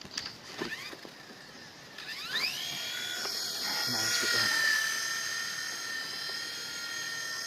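A WL Toys V911 four-channel RC helicopter spins up with a rising high-pitched motor whine, then holds a steady buzzing hover close by, with a voice briefly heard.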